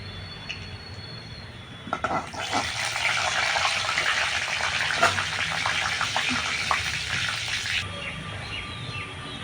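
Dry red chillies, cumin, garam masala and bay leaf hit hot oil, and a loud, dense sizzle bursts up and holds steady before easing off.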